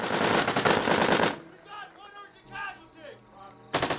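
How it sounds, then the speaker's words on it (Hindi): Rapid gunfire from across a river rattles loudly at close range for over a second, then gives way to a voice speaking, before another burst of shots cuts in at the end. "उसके बाद नदी की उस पार से फिर से गोलियां चलने लगा।"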